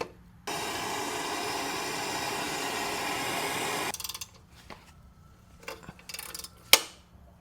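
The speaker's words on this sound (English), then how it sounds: "I prefer using an impact." An impact wrench removes a 16mm exhaust manifold clamp bolt on a second-generation MINI Cooper, one loud, continuous buzzing run of about three and a half seconds, then a few small clinks and metallic knocks.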